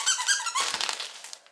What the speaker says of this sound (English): so I got her a squeaky toy